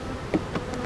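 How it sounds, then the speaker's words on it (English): Honeybees are shaken off frames into a hive, their close buzzing hum swelling in brief pulses. "I'm gonna shake some bees."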